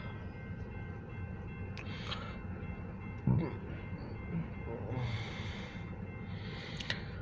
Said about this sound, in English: Got a light power train coming.